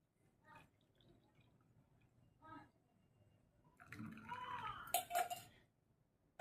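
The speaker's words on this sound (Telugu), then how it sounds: "ఇలా మంచిగా బాయిల్ అయిన వాటర్ని స్ట్రెయిన్ చేసుకొని" Boiled water with four ingredients is strained in a kitchen: quiet clinks of a vessel first, then a brief pouring trickle and clatter of dishes near the end.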